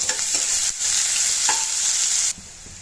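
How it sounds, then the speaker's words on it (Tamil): Onions sizzling steadily in hot oil, a constant bright hiss with occasional stirring scrapes, close by, dropping quieter near the end. "நறுக்கி வச்சுருக்க ஒரு வெங்காயத்தை சேர்த்துக்கலாம் இது நல்லா வதங்கி வரணும்"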